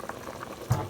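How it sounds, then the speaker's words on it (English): A pot of chicken chili and beans simmering on the stove, giving a soft steady bubbling that swells into a slightly louder burble near the end, close and alone. "We throw the chicken over in there and the other stuff and let it simmer down a little more"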